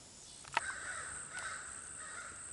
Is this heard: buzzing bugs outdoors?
no